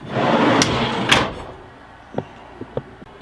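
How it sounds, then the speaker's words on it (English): A kitchen drawer on a full-extension glide in a 2020 BoonDock Lite 400 RV slides out with a rolling rumble, followed by several light clicks and taps. "Notice how it pulls out. It's a full extension drawer glide."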